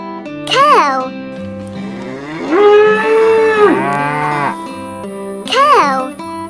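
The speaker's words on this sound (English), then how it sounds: "Cow." A cow moos in a toy farm-animal sound set, a long sustained low moo in the middle, framed by a voice saying the animal's name at start and end.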